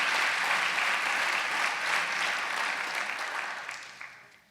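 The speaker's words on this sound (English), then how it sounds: "So a big round of applause for the crew at Tarkington" Sustained applause from an audience at the close of a Kathak dance performance, a dense crowd clapping steadily at full strength before tapering off toward the end.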